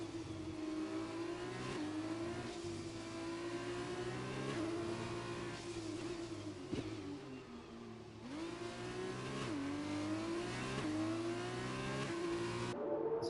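Formula race car engines in the video game F1 2021, at the Singapore street circuit, whine steadily near and loud, their pitch rising and falling through gear changes and revving, with no voices.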